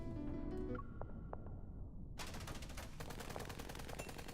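Gunfire and explosions ambience from the Love and Deepspace video game, a dense, steady wash of rapid shots and blasts that thickens partway through, loud and continuous with no talk.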